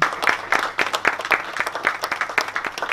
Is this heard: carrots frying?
no